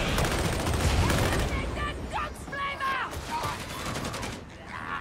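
Loud, rapid bursts of gunfire from the Warhammer 40k Darktide video game crackle in dense volleys through the first seconds, then thin into scattered shots under people talking.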